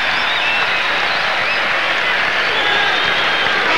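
Dense, steady roar of a basketball arena crowd cheering and applauding after a dunk in a 1992 Iowa State versus Kansas State college game, loud and continuous throughout.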